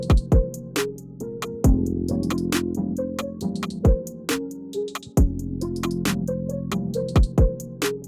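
A sample-flipped hip-hop beat built in FL Studio from a simple melody, with punchy kicks, sharp snare and hi-hat hits over sustained chopped melodic chords, playing steadily and loud with no voices.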